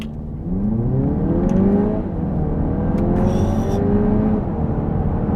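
A 2-litre Audi TT accelerates hard through the gears, its engine note rising in two clear sweeps with a brief dip at the shift, loud and close from inside the car.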